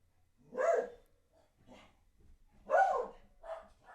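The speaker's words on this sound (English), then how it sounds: "These dogs bark at everything and anything." Dogs in the game Animal Crossing: New Horizons bark outside, a few separate yips and woofs spaced over a few seconds, moderately loud against a quiet background.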